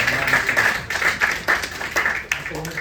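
An audience at a hepatitis summit breaks into a round of applause, with a dense run of claps at moderate volume that rises and falls over a few seconds.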